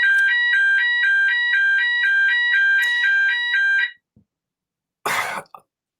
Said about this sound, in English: it's the day they test the alarms. I'm not leaving. It's not a fire alarm.